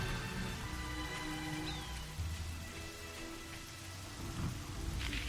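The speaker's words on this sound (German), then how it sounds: "Und es blitzt und donnert." Rain and thunder in the video game Fable: a steady wash of rainfall fills the scene, with low rumbles of thunder rolling underneath at moderate distance and no voices.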